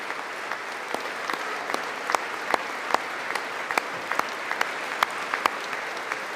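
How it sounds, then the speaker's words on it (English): Sustained applause fills a large chamber during a State of the Union address, a steady wash of many hands clapping with sharper individual claps popping out, continuous and fairly distant with no talk over it. "how long are we going to clap for?"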